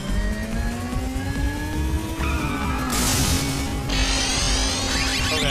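Car engine in the video game Ape Escape 3, a steady droning motor with rising pitch as it accelerates, tire squeal and skid noise bursting in midway, continuous and fairly loud with no talking.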